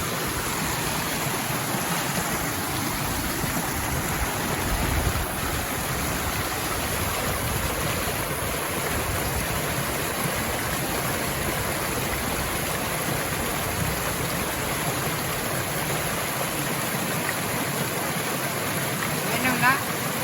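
Water poured steadily while cooking outdoors, making a continuous rushing, splashing wash that holds at an even level throughout.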